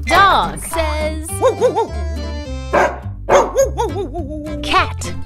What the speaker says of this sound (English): Dog says...